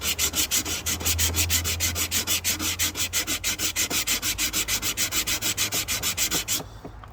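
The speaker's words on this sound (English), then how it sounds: "some lovely new sandpaper, 80 grit, which is good and rough." Coarse 80-grit sandpaper rasps back and forth over an old wooden window frame in fast, even strokes, a close, loud scratchy rhythm that continues steadily for about six seconds, then stops.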